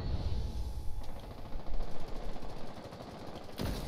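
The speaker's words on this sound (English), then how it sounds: "Where the hell am I getting shot from?" Video game gunfire crackles in rapid automatic bursts, loud and close, with a sharp shot near the start and another burst at the end.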